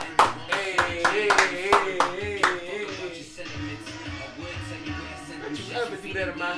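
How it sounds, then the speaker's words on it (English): Audience clapping at the close of a live podcast show, a burst of sharp hand claps in the opening seconds that gives way to looser clapping mixed with voices and chatter from a few people. "Another applause. Let's go. Clap it up."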